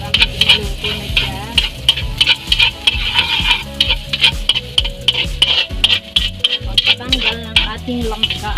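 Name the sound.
ginger being sautéed in a pan for bopis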